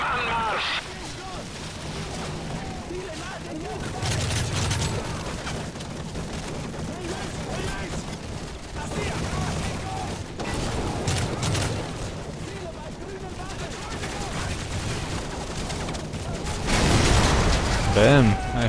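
A busy stretch of Call of Duty: Modern Warfare 3 combat with repeated bursts of gunfire and booming blasts, the loudest explosion near the end, under ongoing talk.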